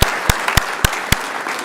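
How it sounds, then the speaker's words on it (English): Audience applause at a city council meeting: steady, dense clapping across the room, punctuated by several sharp, loud individual claps at a regular rhythm, fairly close. "So another round of applause for Jeff."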